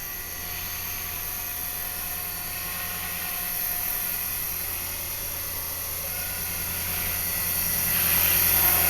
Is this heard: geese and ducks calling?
no